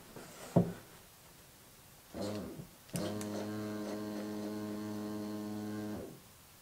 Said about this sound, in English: I just turned the pump on and there was almost no pressure